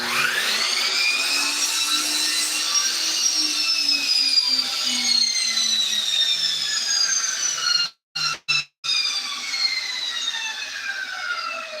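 A power saw cuts cedar fence pickets in one long, steady pass, loud and close, its pitch sagging slightly as the blade bites, then breaks off in a few short stops near the end.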